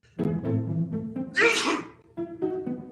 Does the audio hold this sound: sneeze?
yes